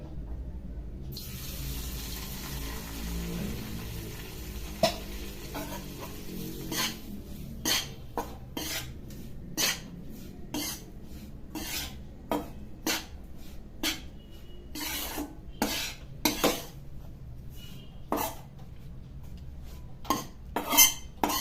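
Utensil sounds at a kitchen pan where food is roasted in homemade ghee: faint scattered clinks and scrapes of a spoon against metal, irregular and close, over a low steady background hum, with no voices.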